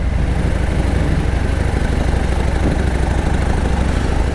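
A Harley-Davidson Road King Special motorcycle engine runs steadily in top gear, a continuous low, even drone with constant loudness and no talking.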